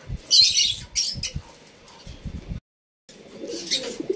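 African lovebirds in a breeding setup being force-paired chirp and squawk in loud, close bursts, with one brief pause before the chattering resumes. No talk can be heard.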